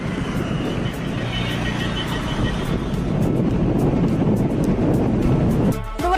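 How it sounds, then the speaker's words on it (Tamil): Strong gusty wind at the Pamban bridge, Ramanathapuram, roars and buffets the microphone in a continuous, heavy rush, close and loud throughout, like pounding surf. "மணிக்கு ஐந்து முதல் ஐந்து கிலோமீட்டர் வேகத்தில் சூறைக்காற்று வீசி வருகிறது"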